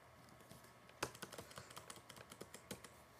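Text typed on a computer keyboard in a quick run of crisp, close key clicks at a steady, slightly uneven rhythm, with no voices.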